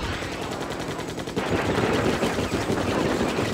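Automatic weapon fire in the real-time strategy game Act of Aggression, rapid machine-gun bursts rattling continuously and growing louder midway, with no speech over it.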